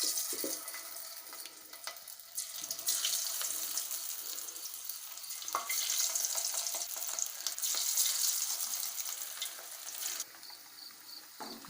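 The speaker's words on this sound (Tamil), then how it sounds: "இப்போ எண்ணெய் சூடாயிடுச்சு, நம்ம ஒன்று ஒன்றா போட்டுக்கலாம்." Fish pieces coated in egg batter hiss and sizzle in hot oil, a steady close frying crackle that swells as more pieces are added, with no talking.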